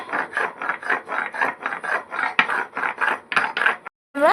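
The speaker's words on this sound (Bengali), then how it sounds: "গরম মশলা বাটে নিচ্ছে, এরপরে গরম মশলাটা দেওয়া হবে গাইস।" Garam masala is ground by hand, a rhythmic rasping rub of about a dozen steady strokes close by that stops briefly near the end.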